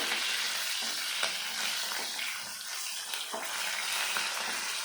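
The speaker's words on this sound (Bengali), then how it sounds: "দিয়ে দেবো রাঁধুনি দিয়ে আমি ভালো করে নেড়ে চেড়ে নেব" Hilsa fish head curry with garlic and radhuni spice being stirred in a hot pan, a steady close sizzle and frying hiss with intermittent scraping stir strokes, no talking.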